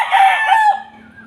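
A yellow-legged Dutch rooster gives a single loud, close crow that rises, holds and then trails off, with no talk over it.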